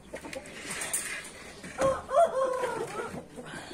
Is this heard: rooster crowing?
yes